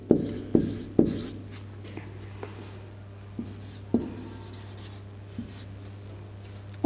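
Pen strokes scratch and tap on paper as numbers are written out for a speed, distance and time math problem, a string of short, close marks under a low steady hum.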